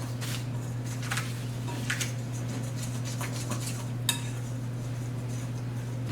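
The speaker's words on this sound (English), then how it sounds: "we're just going to whisk this all together until it's smooth." Butter being whisked into a mixture until smooth, a whisk clinking and scraping against the bowl in irregular bursts, fairly faint and with no talking.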